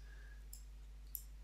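Two faint, crisp clicks from a computer mouse, about half a second apart, over a steady low electrical hum and near silence.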